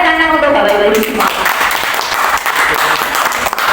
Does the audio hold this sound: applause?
yes